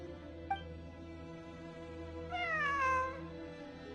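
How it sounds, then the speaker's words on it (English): A cat meows in the video game Genshin Impact, with one clear, drawn-out meow and a brief faint chirp before it, heard over a steady background music bed. "It really is a cat."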